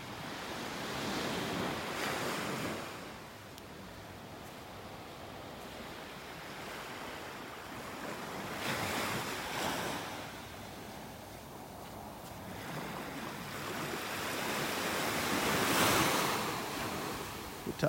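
Ocean surf washes steadily onto a beach in North Naples, Florida, a continuous broadband roar that swells and recedes every few seconds, with wind buffeting the microphone throughout.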